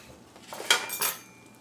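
Dishes and cutlery clatter in a home kitchen while tortelloni is plated from a pan, with two short bursts of clinking close by and no talk.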